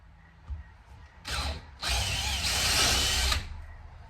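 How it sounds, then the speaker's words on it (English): A power drill with an 8mm bit whirs into material in two bursts, a short one then a longer steady grind, close up and loud with no talking. "give this an 8mm drill through the centre"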